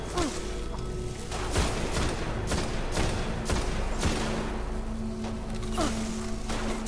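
Gunfire in the Destiny video game, a steady run of sharp shots and impacts crackling close and loud throughout, with a brief tonal hum in the background.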